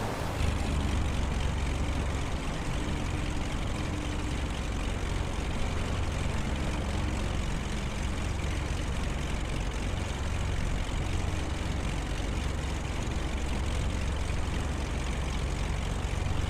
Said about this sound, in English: it's a real classy airplane